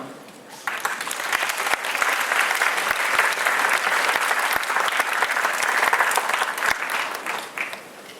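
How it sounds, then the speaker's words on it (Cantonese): Loud, sustained applause from a large audience greets award winners at a school graduation prize ceremony, building quickly after a quiet start, holding steady for several seconds, then tapering off at the end. "真係要俾多啲嘅掌聲啊！"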